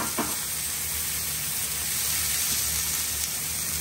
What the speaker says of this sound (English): At this stage, I'm just going to pop in my frozen peas.